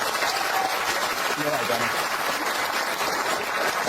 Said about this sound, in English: Sheila's here. Give her a round of applause.